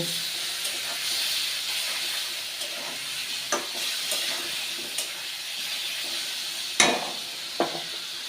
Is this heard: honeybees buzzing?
no